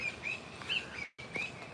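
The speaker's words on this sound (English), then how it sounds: "That bird making that sound right there, it saw something it doesn't like. That's its warning call." A bird gives its warning call, a series of short high chirps repeated irregularly at moderate distance against a faint, quiet outdoor background, with a brief dropout midway.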